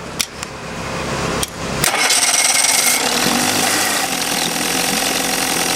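A 1964 Evinrude Big Twin 40 outboard motor starts with a few knocks from the starter, then a loud, steady, close engine roar that runs without a break.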